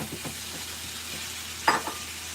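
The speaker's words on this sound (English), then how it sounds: "Give it a stir, get that garlic in there" Meat and garlic being stirred in a hot pan, a soft steady sizzle with a few scraping strokes and one sharper clatter of the spoon near the end, no voices.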